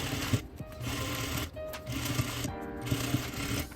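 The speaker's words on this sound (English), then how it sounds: "We're gonna go ahead and pin that right along the center back on both sides, and then stitch them 1/2 inch from the edge." A sewing machine stitches the lining of a prom dress with a basque waist, a steady close mechanical whirring with brief pauses between runs and no talking.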